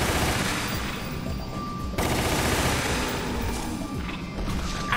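Gunfire from an Uzi and an exploding barrel in a Resident Evil game ring out in a dense, continuous barrage of shots and crashes, loud and close, with a sharp burst about two seconds in.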